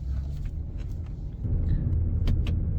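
A cheap, repaired Range Rover with an automatic transmission, once stuck in third gear, accelerates. A low engine rumble is heard from inside the cabin and swells partway through, with a few faint rattles.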